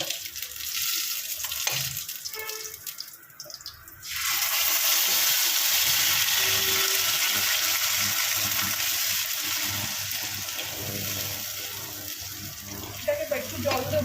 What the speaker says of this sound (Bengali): এবার এই মশলা ধোয়া জলটাও দিয়ে দিলাম মিক্সির জারে।